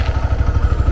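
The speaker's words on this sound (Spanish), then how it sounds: "La moto hay que prenderla" A motorcycle engine chugs in a fast, rhythmic low putter, loud and close, as though idling just after starting.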